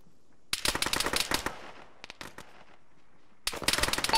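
Bursts of rapid automatic gunfire in the military game ShackTac: a dense close volley, then a few scattered shots, a short pause, and another burst starting up.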